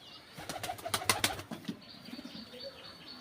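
Pigeons in a loft netted on all sides beside paddy fields, a quick burst of wing flapping followed by soft coos and calls, close and fairly faint.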